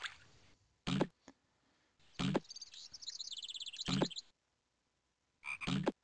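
A cartoon frog in the Zoombinis video game croaks in short loud bursts, a few separated by pauses of silence, with a longer trilling croak near the middle and another burst at the end.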